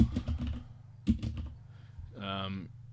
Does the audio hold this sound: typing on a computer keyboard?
yes